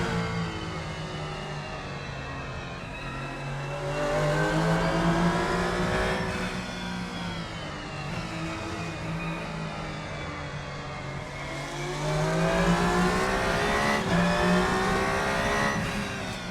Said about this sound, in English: So I'm driving the United Racing Designs Darsha EGT car.